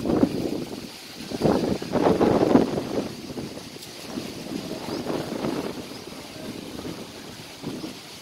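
Cold wind buffets the microphone in gusty surges that rise and fall over several seconds, loud at moments and calmer between, with no voices.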